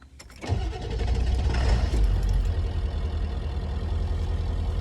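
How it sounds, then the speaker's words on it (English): A pickup truck engine cranks over and fires up, settling into a loud, steady idle close by with a deep rumble and no talking. "Let's get my truck started."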